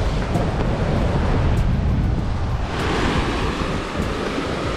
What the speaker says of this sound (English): Some nice waves to go surfing on.